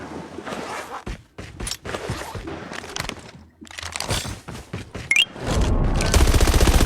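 Gunfire in a first-person shooter video game rattles out in rapid bursts and single cracks, with short pauses between volleys and a dense stretch of sustained automatic fire at the end.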